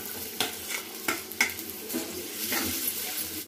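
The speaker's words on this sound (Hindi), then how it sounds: "इसे हम इसको चला चला के अच्छे से बटाटे को पकाएं।" Small potato pieces cooking in a pan with cumin seeds and green chilli sizzle steadily while a spoon stirs them, giving a few distinct scraping knocks over the frying hiss, close and alone.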